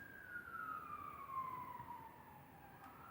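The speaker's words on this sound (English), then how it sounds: "I think there's sirens. I don't know if you guys can hear them." An emergency vehicle siren wails in the distance near a hospital. A steady, faint tone slowly glides downward over a constant low rumble of traffic.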